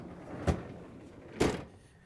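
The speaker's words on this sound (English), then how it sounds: "In order to change the part, we have to open up the freezer door." An LG/Kenmore refrigerator's freezer door pulled open, giving two soft, close thumps about a second apart with no one talking.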